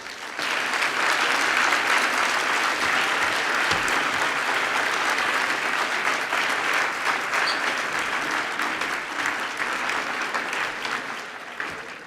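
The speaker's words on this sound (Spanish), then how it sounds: "un poquito más de aplauso para Salvador, que se lo merece" Sustained applause from a conference audience honoring speaker Salvador Freixedo at the MAGIC 2015 congress, a dense, steady roar of clapping hands filling the hall for the full length, tapering slightly at the end.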